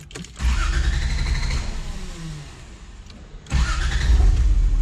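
A Toyota Supra engine revs from a start, a strong low rumble that swells, eases off, then climbs again in a second loud rev near the end, close up with no talking.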